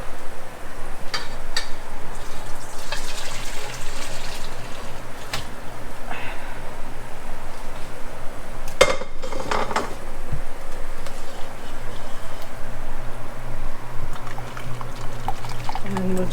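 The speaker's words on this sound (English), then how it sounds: "Pour it in the colander." Boiled water poured from a pot into a colander to strain while making Vietnamese summer rolls. It makes a continuous rushing, splashing pour at close range, with a brief clatter partway through.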